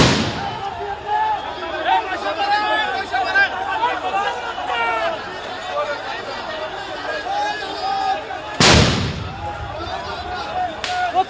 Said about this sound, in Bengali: সাউন্ড গ্রেনেড মারতেছে প্রশাসন